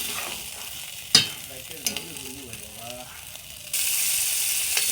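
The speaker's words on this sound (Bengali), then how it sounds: "তেল দিয়ে আমি পেঁয়াজ দিয়ে দিয়েছি।" Onions frying in hot oil for a dried-fish and bottle gourd curry, a steady sizzle with a sharp clatter of stirring near the start and the frying growing louder in the final second.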